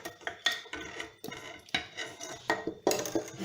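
A spoon scrapes and clinks against a pot while spice mix is stirred into Algerian harira soup, giving a series of close, sharp metallic knocks in an irregular rhythm, with no talk.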